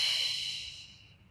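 A single soft, breathy exhale during a Pilates core exercise, close and gentle, fading out over about a second with no talking.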